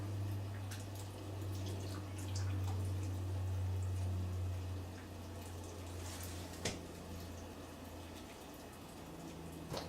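Water running from a Tyent water ionizer into a container, a steady low stream with some dripping, continuous and fairly quiet throughout.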